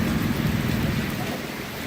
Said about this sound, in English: When it's raining like this, it's thundering on